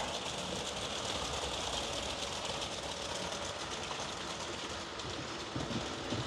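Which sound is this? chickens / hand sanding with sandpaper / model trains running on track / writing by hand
model trains running on track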